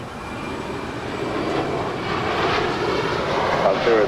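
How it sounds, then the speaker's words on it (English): A Cathay Pacific Cargo Boeing 747-8 on approach to land at LAX, its engine roar steadily building and growing louder as it nears, with a voice speaking over it. "That is Cathay Pacific Cargo, Flight 2096, coming in from Anchorage. It's a 747-8, a minute away from touching down here on 25 left."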